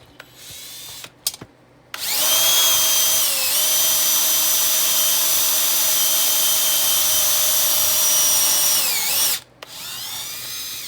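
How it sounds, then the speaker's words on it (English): A power drill bores holes in a Quadrajet carburetor base plate, spinning up into a loud, sustained whine for about seven seconds with a brief pitch dip, then stopping, with a few clicks before and a quieter hum after. "Now that the holes are drilled"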